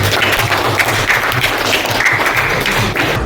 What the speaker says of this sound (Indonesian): Tepuk tangan untuk Ananda Asila